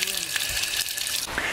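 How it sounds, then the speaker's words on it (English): Water pours steadily from an original drinking fountain at a national park visitor center, a continuous bright hissing rush heard close up. "This is an original water fountain,"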